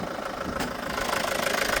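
A Ford Transit van's 2.5-litre diesel engine idles nearby with a steady, faintly knocking clatter. The sound stays even for a couple of seconds with no talking over it.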